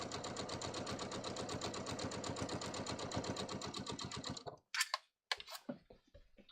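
A sewing machine stitches a trouser seam, running steadily in a fast, even mechanical rhythm for about four and a half seconds, then stops and gives way to a few sharp clicks and short handling noises.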